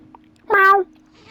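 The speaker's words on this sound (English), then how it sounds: "There's a cat up here on the balcony." A cat meows once on a balcony in the video game The Legend of Heroes: Trails through Daybreak, a short, clear, close call in an otherwise quiet scene.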